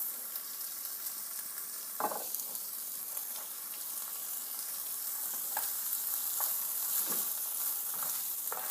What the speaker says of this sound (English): I'm going to toast up the rice.